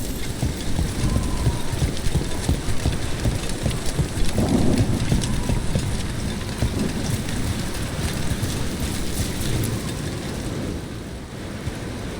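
Heavy, constant rainfall with a faint distant thunder rumble midway, easing slightly toward the end, in the video game Dragon Age: The Veilguard.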